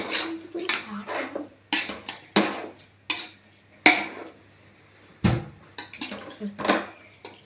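A spoon stirs chicken curry in a metal pot in uneven strokes, each one a close, clanking scrape against the pot with short quiet gaps between.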